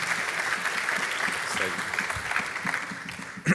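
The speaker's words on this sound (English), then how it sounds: "give them a big round of applause" A crowd at a hackathon closing ceremony in Lisbon applauds a team coming up to demo, dense sustained clapping filling the room at moderate loudness before tapering off near the end.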